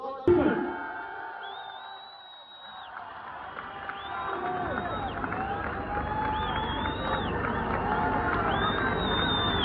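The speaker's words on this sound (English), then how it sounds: "So please, give this young man a massive, massive cheer, a round of applause." A protest crowd in London cheers and whoops loudly, with shrill whistles cutting through and steady applause building beneath, a dense, sustained roar that swells after a brief dip near the start.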